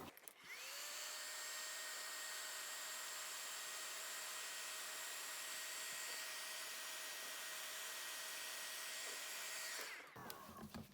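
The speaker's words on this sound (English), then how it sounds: "you shrink the heat shrink with a heat gun or a lighter" A heat gun blows and whines steadily while shrinking heat-shrink tubing on LED wiring, a close, even airy roar that runs for about ten seconds before cutting off.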